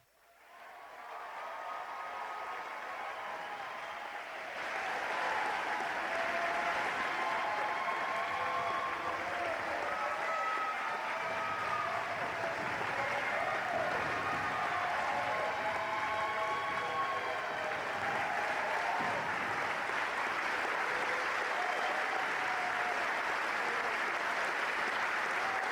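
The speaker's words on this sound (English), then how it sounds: "please join in a ruckus round of applause for our graduates" Sustained applause from a large audience honoring the graduates at the Middle Creek High School graduation ceremony, June 2021, rising quickly into a steady, even roar of clapping that holds for about twenty-five seconds, with no talk over it.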